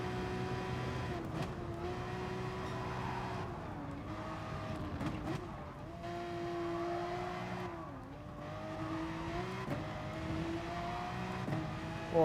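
A race car in a racing video game at Mount Panorama, its engine holding a steady drone through a corner with small dips and rises in pitch as it lifts and accelerates, heard alone at moderate loudness.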